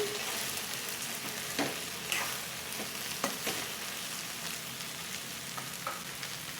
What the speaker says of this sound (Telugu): మధ్య మధ్యలో ఇలా తిప్పుకుంటూ ఫ్రై చేసుకోవాలండి